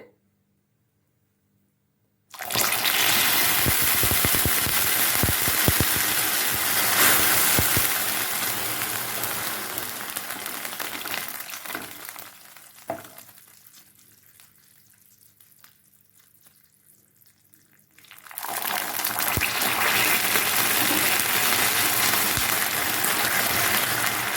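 Water poured into hot caramelized sugar in a pan for Tirunelveli halwa erupts in a loud, hissing sizzle that fades over several seconds, then flares up again as more water goes in, with no voices.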